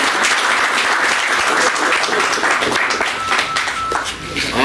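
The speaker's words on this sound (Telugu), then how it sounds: "మరి ఒకసారి మనందరం రన్నర్స్కి, విన్నర్స్కి గట్టిగా చప్పట్లు కొట్టాలని" Sustained applause and clapping from an audience at a sports competition award ceremony, cheering the winning and runner-up teams; dense, loud and continuous throughout with voices mixed in.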